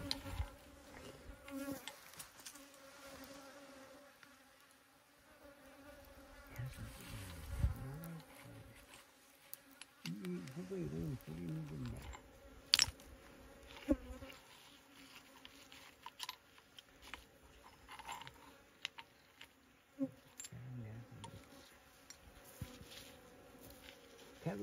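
Honeybees buzzing around an old hive that survived a cold winter, a dense close hum that swells and fades in bursts, with occasional soft handling noises and no talk.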